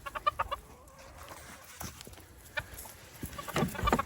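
Several hens cluck in short bursts, with a few louder squawks near the end, fairly close and without any talking.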